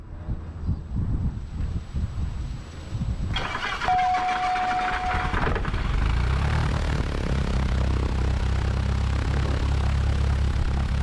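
A Diamond DA40-180 light aircraft engine cranks with a whine, catches, and settles into a loud, steady low-pitched run, heard close up against wind noise, with no talking.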